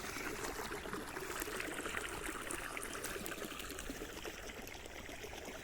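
Irrigation water pumped by a motor flows steadily into field furrows, trickling continuously at close range, a constant watery wash with no voices.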